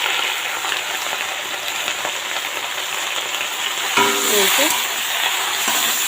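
Greens being stirred in a pan with salt and turmeric powder, giving a steady soft sizzle with scraping strokes near the end.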